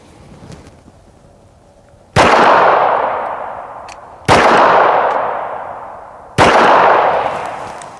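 Three loud, sharp gunshots of 9mm and .45 ACP rounds striking AR500 steel body armor, each a sudden crack with a long ringing decay, spaced about two seconds apart after a quiet start.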